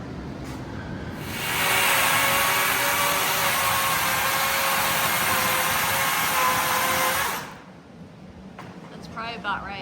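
A chainsaw roars loudly for about six seconds with a steady high-pitched whine and hiss, then cuts off, leaving quiet background and a brief voice, outdoors in winter in Alaska.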